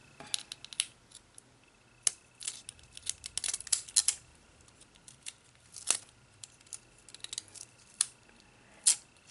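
Scissors snip through folded paper while an accordion-fold flower rosette is being made, giving sharp, close cuts in irregular bursts, some clustered and some spaced apart, with no talking.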